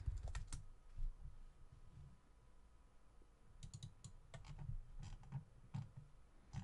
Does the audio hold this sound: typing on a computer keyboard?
yes